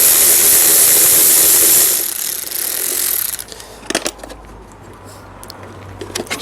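A ratchet wrench works a 10mm bolt free from the seat bracket of a Kawasaki Ninja ZX6 motorcycle, a loud close run of clicking that gives way to a few sharp separate clicks and clatters.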